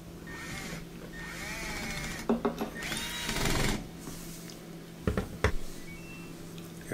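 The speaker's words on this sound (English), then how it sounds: "then we'll put those two Phillips head screws back in that hold that panel on from the back" A power driver runs Phillips head screws into the back panel of an LG washer dryer. It makes short bursts of whirring and clicking, two clusters of sharp hits, over a steady background hum.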